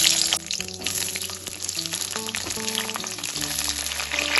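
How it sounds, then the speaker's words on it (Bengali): Cut pointed gourd hits hot mustard oil in a kadai, setting off a loud, continuous sizzle with crackling and bubbling, near and alone, with a few clinking contacts mixed in. "তেলটা বেশ গরমও হয়ে গেছে। এখন আমি এর মধ্যে দিয়ে দিলাম কেটে রাখা পটলগুলো।"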